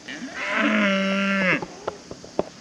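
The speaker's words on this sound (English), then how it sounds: "look who's coming down the road. Some cows." Cattle on a roadway let out one long, loud, sustained moo lasting over a second, followed by a few short scuffs and knocks nearby.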